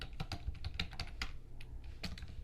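Fingers type on a computer keyboard in a quick, irregular run of close, light key clicks with no talking.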